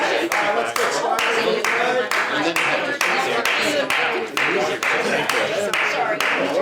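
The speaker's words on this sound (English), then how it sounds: "Are we applauding you, Patrick? No, I'm applauding you to sit down" Steady applause from a small crowd at a citizens' council meeting in Lenox, Massachusetts, continuous clapping throughout at close range, with voices mixed in.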